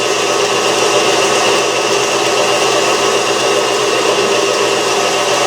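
An electric mixer beats egg whites with cream of tartar for meringue, a steady loud whirring drone with no break, running alone without talk.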